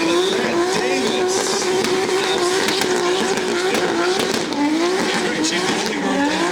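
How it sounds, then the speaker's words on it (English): A car doing a rowdy burnout at a drift event: continuous loud engine roar with wavering, squealing tires throughout, while an announcer talks over it. "is now doing one of the most rowdy burnouts that we've seen thus far"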